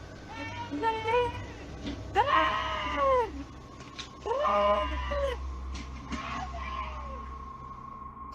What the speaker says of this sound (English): Listen closely. You can hear a woman scream.